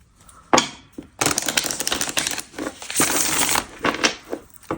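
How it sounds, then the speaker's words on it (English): Tarot cards riffle and slap together in quick bursts, a close, crisp shuffling clatter with short pauses between passes. "All right, one more shuffle."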